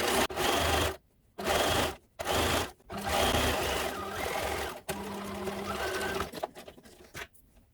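A sewing machine zigzag-stitches around a dress pocket in loud, close bursts of rapid whirring, broken by short pauses, then a quieter stretch of stitching near the end.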